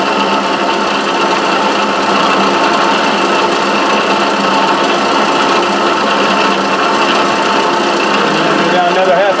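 An Atlas metal shaper runs steadily and loudly throughout, a dense mechanical whir with a repetitive stroking clatter, close up and without a break.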